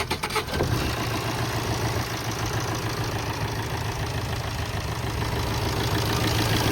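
A 2010 Tata Indica Vista Aura 1.3-litre, 1248 cc diesel engine idles with a steady, loud, dense rumble. A short transient at the very start gives way to an even, continuous running sound close by.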